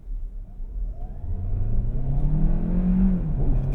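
A 2025 Hyundai Tucson Hybrid Limited AWD with 231 horsepower launched from a standstill at full throttle, the engine note swelling and rising steadily in pitch from inside the cabin, loud and continuous.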